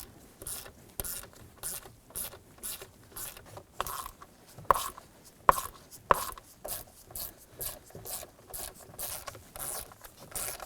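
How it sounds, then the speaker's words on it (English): A stubby ratchet with a 7/32 socket removes the steering column cover screws on a Ford F-150. The clicking is close and comes in quick repeated bursts, with a few sharper clacks in the middle. "We're going to use a 7/32 socket with our stubby ratchet to go ahead,"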